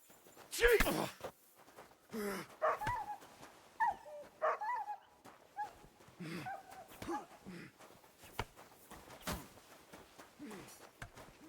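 Dog whimpering and yelping after a blow to the head in Kingdom Come: Deliverance II, a few short pained cries up close, mixed with ambient game sounds and some talk.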